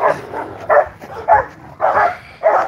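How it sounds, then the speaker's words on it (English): Rottweilers in rough play, letting out a series of short barks and growly yips in an uneven rhythm, close and fairly loud. "I want you guys to see a Rottweiler play"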